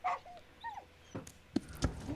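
A dog on a TV show whimpers with short high whines and a few yips, followed by louder thumps and scuffling near the end.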